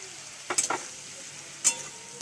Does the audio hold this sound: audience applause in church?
no